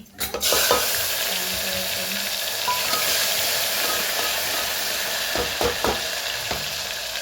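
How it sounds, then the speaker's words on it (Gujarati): Asafoetida dropped into cumin seeds and bay leaf frying in hot oil, a steady loud sizzle running throughout with a few scraping stirs and light pan knocks near the end, close up and without talk. "જીરું થઈ જાય એટલે એમાં હિંગ એડ કરીશું."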